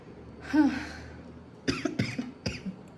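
A child coughs several times, first one cough, then a quick cluster of short coughs about a second later, fairly near but not loud, with no talk.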